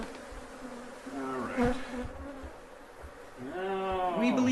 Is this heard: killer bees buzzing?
yes